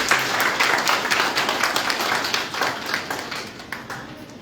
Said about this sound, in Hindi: खड़े होकर तालियों से इनका स्वागत करिए